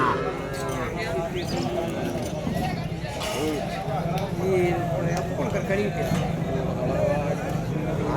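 Cattle lowing at a busy livestock market in Matrapalli, Tirupattur district, with occasional moos rising out of a dense, steady crowd din of voices and animal noise.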